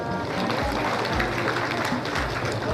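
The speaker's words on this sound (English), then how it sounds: "Please clap for our Expo." Audience at an association's annual meeting applauding, a dense, steady wash of clapping throughout, loud and close with some low rumble and murmur mixed in.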